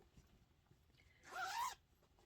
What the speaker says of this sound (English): The top has a zipper because I like everything to be able to zip closed.